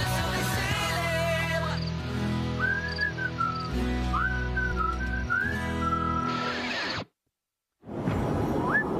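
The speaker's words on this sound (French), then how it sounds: "Tu souris? Tu siffles?" Person whistling a melodic tune with sliding notes over a background music bed, followed by a brief silence and then a short return of sound.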